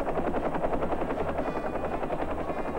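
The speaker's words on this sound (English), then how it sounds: "helicopters become the only way to move food and fuel, lift emergency medical patients to hospitals" A helicopter flies overhead during a severe winter storm, its rotor chopping in a fast, steady pulse, loud and continuous throughout.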